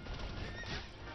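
A horse in the video game Hyrule Warriors gives one short, loud neigh with clip-clopping hooves, set against dense game battle noise.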